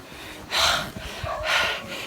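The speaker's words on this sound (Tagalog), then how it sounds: "Hinihingal na ako." A hiker pants heavily after climbing Mt. Sikot Peak in Sultan Kudarat, with two loud, breathy gasps about a second apart close to the microphone and quieter breaths between them.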